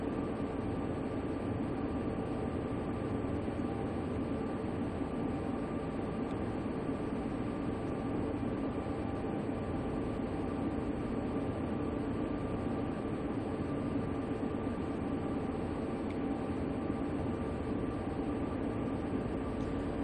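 A train running under dynamic brakes gives a steady, unbroken roar of running noise with a constant high whine above it, holding at even loudness throughout with no talk.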